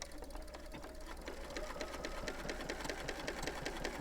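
Sewing machine stitching along the edge of a circle wallet and backstitching, a steady rapid mechanical chatter that runs on without a break, close and moderately quiet.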